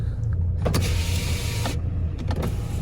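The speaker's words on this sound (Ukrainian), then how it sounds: "Склопідйомник працює." The electric power window motor of a 2010 Ford S-Max 2.0 TDCi whirs close inside the car in one steady run of about a second, with clicks of the switch before and after.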